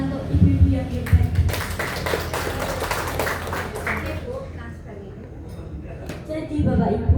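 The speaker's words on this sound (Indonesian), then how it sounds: "Saya minta tepuk tangan untuk ibu-ibu yang hebat." An audience of mothers at a coding and artificial-intelligence teaching session claps in a short burst of applause, with a voice speaking before and after.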